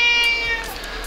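A house cat gives one clear, close, drawn-out meow that tapers off within about a second. No one talks.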